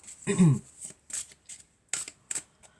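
Tarot cards being shuffled by hand: a loud riffling burst followed by several short, close, papery shuffles and taps with brief pauses between them.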